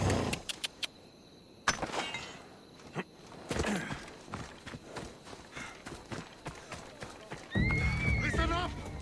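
Horse in the Assassin's Creed Odyssey video game, with clip-clop hooves running alongside talk, then a loud whinny near the end.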